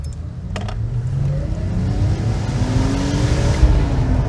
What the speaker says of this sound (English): Alright, let's see what it's got from zero.